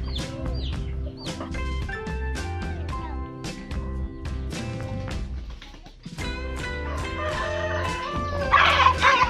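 Rooster clucking nearby on a farm amid chickens, short clucks scattered through the scene while a dog yips and people talk in the background.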